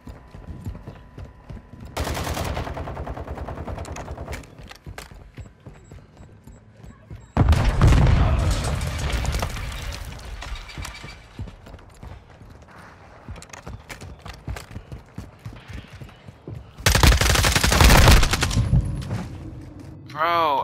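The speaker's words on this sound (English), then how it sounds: "Bro, I'm literally shooting you in the fucking face." Gunfire in Modern Warfare II, bursts of rapid automatic shots in three loud clusters, with quieter clicks and ticks in between.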